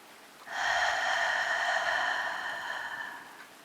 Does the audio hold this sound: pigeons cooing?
no